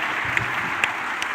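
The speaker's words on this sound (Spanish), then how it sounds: "Un aplauso para que gane tiempo," Brief burst of audience applause at a political forum in Ecuador, a steady wash of clapping with a few sharper claps standing out, fairly close and without voices.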